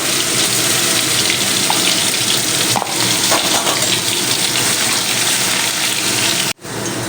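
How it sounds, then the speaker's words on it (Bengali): Chicken stirred and fried in oil for momo filling, a loud, steady broadband sizzle with a wet, gushing character that holds throughout, then cuts off abruptly near the end. "আমি আগে চিকেনটা একটু তেলের মধ্যে দিয়ে নাড়াচাড়া করে নেব"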